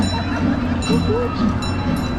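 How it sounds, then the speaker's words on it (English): An amusement park train at Europa-Park rumbles past amid steady park background noise, with people talking nearby over it. "There's the train."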